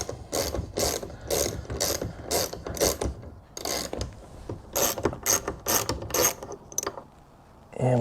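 Ratchet with a half-inch socket working on the oil pressure sensor of a C5 car, giving repeated quick bursts of metallic clicking in an uneven rhythm, close and fairly loud.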